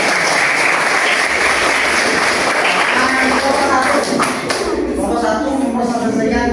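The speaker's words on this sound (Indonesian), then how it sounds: "Oke, kita beri aplaus untuk kelompok" A classroom group claps for presenting students: dense, steady applause from many hands, loud and sustained throughout, with some voices mixed in underneath.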